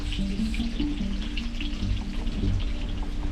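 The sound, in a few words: food sizzling in a pan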